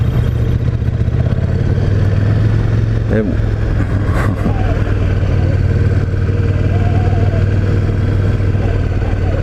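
A 2018 KTM 1290 Superduke motorcycle engine drones loudly and steadily while riding in first gear, heavy low rumble with wind noise, and a rider talks over it.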